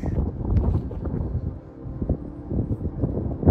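Gusty wind buffets the microphone in low rumbling surges that rise and fall at a remote fire lookout in British Columbia, with no one speaking.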